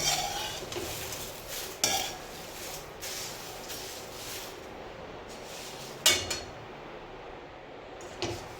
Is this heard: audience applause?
no